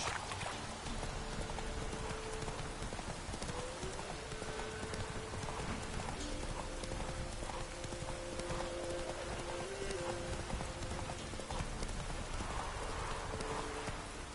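Roach, Geralt's horse in The Witcher 3 on PS5, trots with steady, rhythmic clip-clopping hooves close by, continuous over a hissing bed of rain and faint musical tones.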